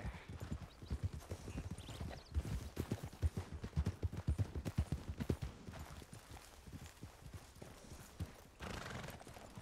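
Horses' hooves clip-clop in a rapid irregular rhythm in a ranch roleplay video game, with neighs and whinnies, moderately close, the steps slowing and thinning toward the end.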